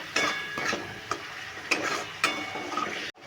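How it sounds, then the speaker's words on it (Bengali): Masala spices fried in oil while being stirred for a prawn, pumpkin and potato curry, giving a steady close sizzle broken by several sharp scraping stirs of the pan. "যেভাবে মাংসের মশলা কষাই সেইভাবে আমি মশলাটা কষিয়ে নেব"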